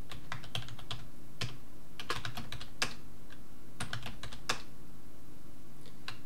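Someone types the passwd command on a computer keyboard while setting up Kali Linux on a Raspberry Pi 4. Crisp, close key clicks come in quick irregular runs with short gaps over a steady low background hum.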